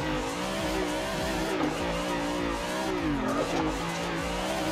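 A car in a driving simulator video game drifts through a corner, engine droning and revving with wavering pitch while the tyres squeal and skid continuously, loud and close.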